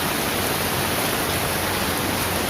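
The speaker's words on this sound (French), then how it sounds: "mais ici il pleut" Rain falls steadily, a dense even hiss of drops with no breaks or voices, close and moderately loud throughout.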